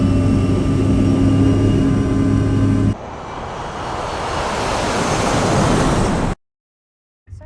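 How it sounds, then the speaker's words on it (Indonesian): A passenger airliner takes off down a runway with a loud, steady engine roar that shifts in tone partway through, then cuts abruptly to near silence. "Takeoff power set."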